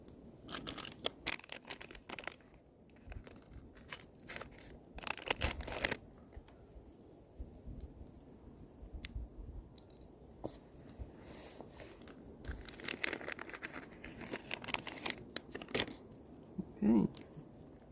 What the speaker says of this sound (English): it looks like I may have to cut this one open because it has no tear